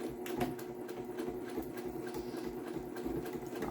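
Sewing machine stitching a scrap fabric headband, a faint, steady mechanical whir with a fast repetitive clatter running throughout, close and quiet.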